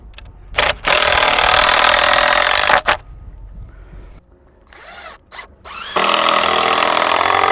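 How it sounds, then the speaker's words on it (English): A power drill drives screws into wood while building a greenhouse, with two long, loud whirring runs, a quieter pause with light handling in between, then a third run. "I'm just gonna put those screws in because I keep forgetting."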